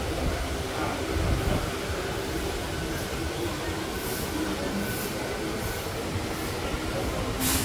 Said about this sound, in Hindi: और देखिए ट्रेन का डिपार्चर।